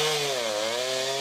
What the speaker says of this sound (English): The sound of chainsaws filled neighborhoods across Cambridge today after storms last night caused damage